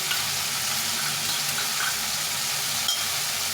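Ginger-garlic paste frying in a pan with soybean curry, a steady dense sizzle with faint stirring scrapes, close and continuous with no talking.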